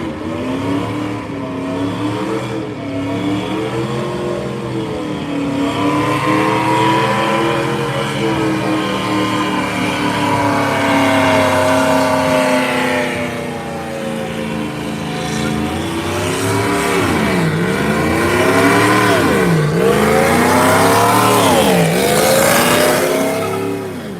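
A 1,000 horsepower Chevrolet Suburban doing a burnout at a car show, its engine roaring loudly with long rising and falling revs and tire noise, sustained and close, with crowd sound beneath it.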